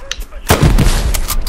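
A grenade blast in a video game, a sudden loud low boom with a rumbling tail that follows a brief voice before it.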